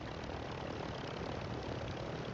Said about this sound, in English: He's calling for this helicopter.